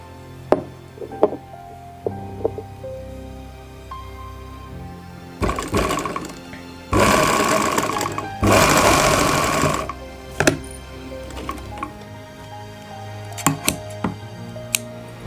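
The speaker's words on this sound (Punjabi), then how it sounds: "ਇਸੇ ਤਰ੍ਹਾਂ ਹੀ ਆਪਾਂ ਦੂਸਰੀ ਸਾਈਡ ਲਾ ਲਾਂਗੇ ਸਿਲਾਈ।" Sewing machine stitching a cuffed sleeve for a ladies' suit, with scattered clicks and fabric handling, then longer runs of loud, close, whirring stitching that start and stop in bursts.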